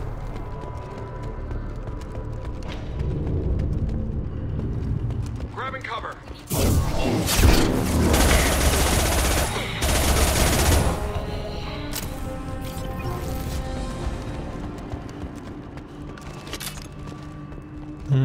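Player gunfire in Mass Effect 2 rattles out in a dense, loud burst midway through, set among game effects and thuds, with someone talking over much of it.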